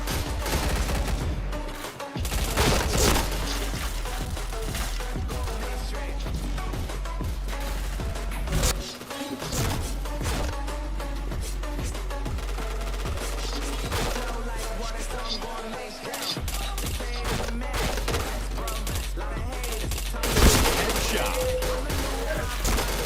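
Rapid bursts of gunfire in a shooter video game, dense and loud, with machine-gun volleys and sharp impacts nearly continuous throughout, a few brief gaps between bursts.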